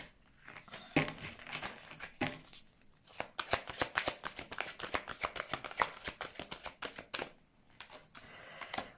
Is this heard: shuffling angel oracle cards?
yes